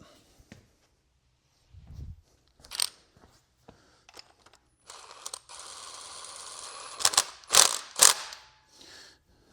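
Mechanical clicking and ratcheting from wrenching a fitting on the relocated oil cooler of a Ford E-Series van, in scattered bursts with a longer metallic stretch and a few loud close clacks, no talk.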